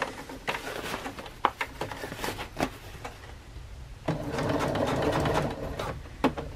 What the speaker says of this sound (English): now I'm going to sew 1 inch around on this end